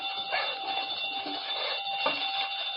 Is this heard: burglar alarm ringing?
yes